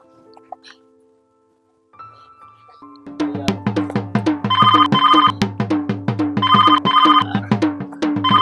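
After a quiet start with faint sounds, a phone ringtone begins and repeats its bright electronic melody over and over, loud and near, ringing on unanswered until the end.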